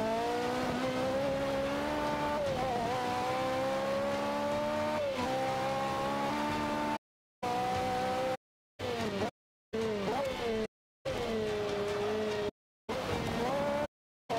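A Ferrari race car engine roars in Forza Motorsport 5, revving steadily with rising and falling pitch as gears shift. The sound is loud and continuous at first, then broken by several abrupt silent gaps.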